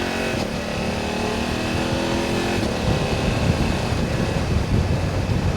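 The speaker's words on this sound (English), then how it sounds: "Let's see what the quick shifter's like." BMW F900 GSA motorcycle accelerating through the gears with its quick shifter, a loud continuous engine drone with rising revs and a brief break at a shift, plus wind noise while riding.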